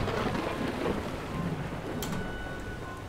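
A thunderstorm with heavy rain in the Oil Tycoon video game, a dense steady downpour with low rumbling thunder throughout, loud and continuous, with no talking.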